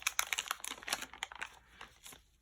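Disposable plastic packaging of a Cosmos ink kit for an Epson WF7710 printer cut open, giving a close run of crisp crinkling and snipping crackles that fade toward the end.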